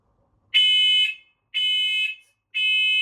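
First Alert smoke and CO alarm sounding during a button test: three loud, piercing shrill beeps in an even rhythm, each about half a second long.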